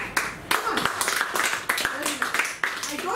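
An audience claps during a health talk on heart disease, with scattered sharp hand claps ringing out irregularly under steady speech.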